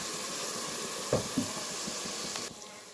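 Garlic and dried coriander sizzling in a pan for okra, a soft, even hiss of hot oil with a couple of faint knocks from stirring, close and fairly quiet.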